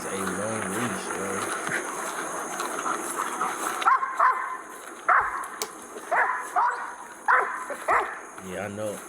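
A dog on a long leash gives several short, yipping barks in quick bursts over a background of insects, with people talking underneath.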